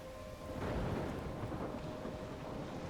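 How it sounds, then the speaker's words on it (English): A thunderstorm rages in the game Life is Strange, with rolling thunder building up quickly and rain and wind roaring steadily and loudly throughout, and no one speaking. "I'm trapped in a storm?"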